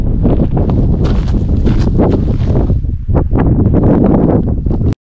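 Strong wind buffets the microphone during a stormy mountain hike in Natfjelldalen, Scandinavia, in loud, continuous roaring gusts with brief rustling bursts and no speech.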